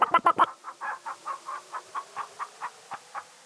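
Hens in King's Quest 3 let out a few sharp, close squawks, then a steady run of evenly spaced clucks that gradually fade.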